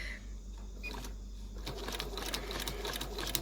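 A sewing machine with an open toe foot stitches along a line in foundation paper piecing for a quilt block, a steady close whir with a quick rapid needle patter picking up partway through.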